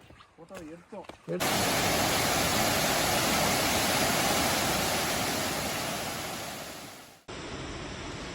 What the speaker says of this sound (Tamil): இந்த ஃபால்ஸ் பார்த்திங்கன்னா இதுவும் கூக்கலில் தான் இருக்குது